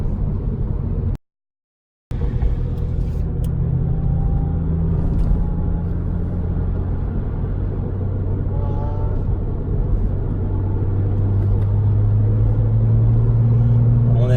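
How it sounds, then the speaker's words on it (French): A Lotus Exige fitted with an aftermarket exhaust drones steadily at a low pitch, rising slightly toward the end, with a brief total dropout near the start. "cette Lotus a un super bruit, même d'origine"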